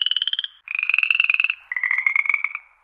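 Frogs croak in three rapid, rattling bursts, each a quick pulsing trill, loud and close, with short pauses between them.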